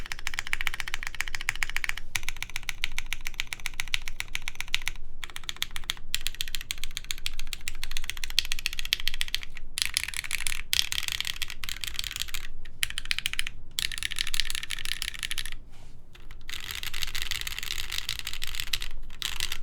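Rapid, continuous typing on a rebuilt Fox Lab Sunset 80 mechanical keyboard, with dense close-up key clacks and a few short pauses between bursts.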